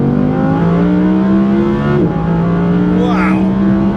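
An Audi R8 RWS V10 engine screams at high revs near its 9,000 RPM limit, a loud, steady high-pitched wail with a brief shift dip midway and no talk over it.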